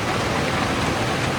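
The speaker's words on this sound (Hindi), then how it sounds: "यहाँ हो रही है दनादन बारिश" Heavy rain pours down in Jibhi in the Tirthan Valley of Himachal, a thick, even roar of noise filling the air without pause or speech.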